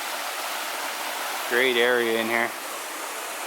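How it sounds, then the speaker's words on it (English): A small set of falls pouring into a river gives a steady, even rush of water throughout, while someone speaks briefly over it midway. "It's a nice little set of falls"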